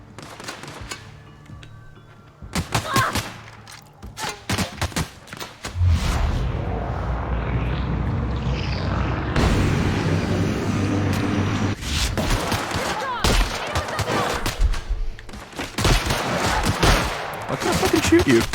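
Video game The Outer Worlds on the Switch, with repeated gunshots and bursts of rapid fire in a busy fight, loud and close, over a rumbling background, with a voice talking at times.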